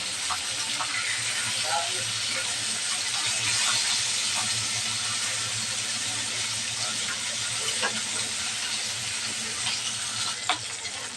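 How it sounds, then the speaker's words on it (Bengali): Steady hissing sizzle of hilsa fish frying in hot oil, continuous and fairly loud throughout, with a low hum underneath. "ইলিশ মাছটা ভাজা হয়ে গেছে"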